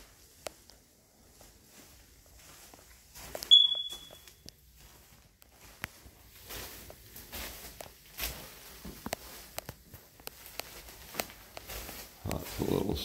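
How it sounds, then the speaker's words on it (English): A smoke detector in a house chirps once with a short, sharp, high electronic beep for a low battery, standing out amid quiet footsteps and faint room sounds. "Add battery to smoke detector, just heard it chirping."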